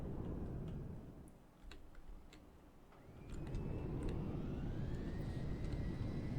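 An RC airplane motor throttled down into hover, a thin whining tone that sweeps and wavers outdoors, faint and distant beneath a steady rumble of wind noise.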